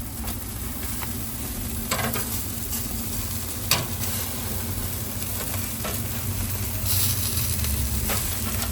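Jamaican jerk chicken pieces fry in a pan with a constant close sizzle, broken by a few sharp scrapes and knocks as they are flipped onto the meat side. No voices.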